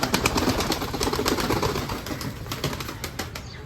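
Rapid, busy flapping of a hand-caught pet pigeon's wings, close by, a dense fluttering burst that continues steadily with no voices.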